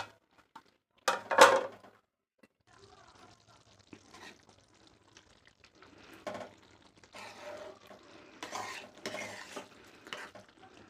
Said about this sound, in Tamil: கொஞ்சமாக வெல்லம் சேர்த்திட்டு கிளறிட்டு திரும்பவும் நம்ம தட்டு போட்டு மூடி விடலாம். நல்லா கொதிக்கட்டும்.